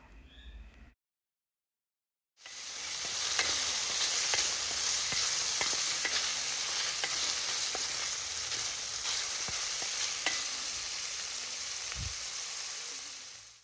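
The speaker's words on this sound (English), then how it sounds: "Let it fry until it starts browning." Beef pieces fry in a hot pan for a stew with potatoes, giving a loud, steady sizzle close by with scattered pops and occasional stirring clatter after a brief silent gap at the start.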